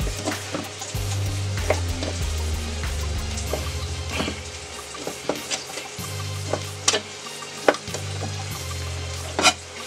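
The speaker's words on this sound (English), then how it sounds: "we're just gonna saute this sausage down" Sausage cubes sauté in a pan, a continuous crackling sizzle with intermittent scrapes and knocks of the utensil, alone without talk.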